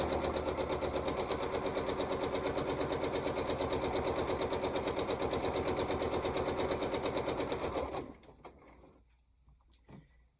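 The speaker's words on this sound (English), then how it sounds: "I'm just sewing around 2 sides" Sewing machine stitching fabric, a fast, steady mechanical chatter running evenly and close for about eight seconds before stopping, followed by a few faint clicks and handling sounds.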